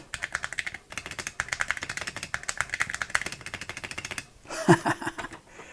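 Rapid, steady typing on a custom modern keyboard built for an Atari 800 retro computer, with crisp close key clacks in a fast even rhythm, then a short pause and a few louder clunks.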